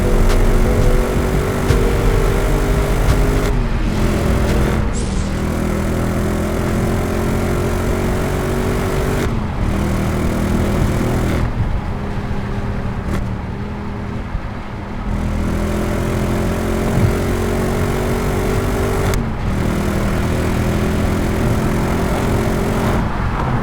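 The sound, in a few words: Audi S4 car engine driving on motorway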